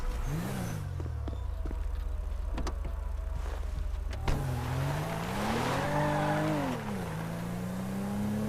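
A car speeding in Grand Theft Auto V on PS4, a loud steady engine drone that rises and falls in pitch as it shifts and accelerates, with brief tire noise and a continuous roar throughout.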